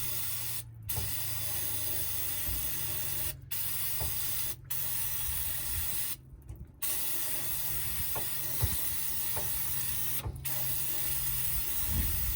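Brake cleaner hisses from a spray can onto welded differential gears in a 1999 Lincoln Town Car, long continuous bursts broken by brief pauses and small metallic knocks, close and alone without speech.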